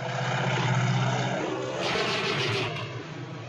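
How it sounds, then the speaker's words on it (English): Crop-dusting propeller plane flying low in North by Northwest, its droning engine loud and close, swelling and then easing as it passes. "That plane's dusting crops where there ain't no crops."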